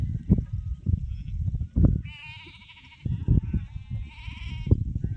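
A flock of sheep bleats in two drawn-out, wavering calls close by, over low rumbling handling noise and outdoor wind.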